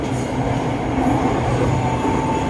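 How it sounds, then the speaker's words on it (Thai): A Bangkok Red Line electric train passes in the opposite direction on its way from Rangsit. It makes a steady, loud rumble of wheels on rail, with a faint high whine running through it. No one speaks. "มีขบวนรถวิ่งสวนมาด้วยนะฮะ มาจากทางลังสิตนะครับ"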